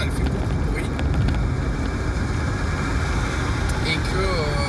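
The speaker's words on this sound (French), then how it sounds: "je me rends compte que la voiture elle fait beaucoup de bruit" A moving car in Australia, its windows open, fills the cabin with steady road and wind rumble at moderate volume, and a voice talks faintly over it.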